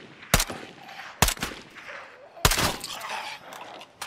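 Three sharp gunshot bursts in a video game, loud and close, separated by short pauses, with a brief echoing tail after each blast.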